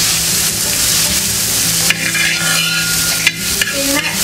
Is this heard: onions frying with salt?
yes